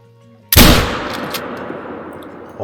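A hunting rifle fires one sharp, loud shot in theHunter: Call of the Wild, Te Awaroa, and its long echoing boom fades slowly over a quiet outdoor background.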